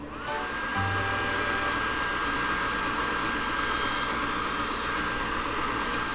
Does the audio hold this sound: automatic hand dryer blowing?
yes